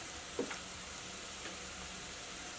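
Spice powders sizzle in hot oil for a potato curry, a soft steady frying hiss with a couple of faint stirring scrapes.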